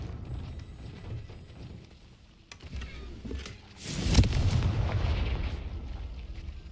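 A Confringo fire spell detonates in Hogwarts Legacy, a loud booming burst arriving after quieter rumbling ambience, followed by a sustained crackling, rumbling tail.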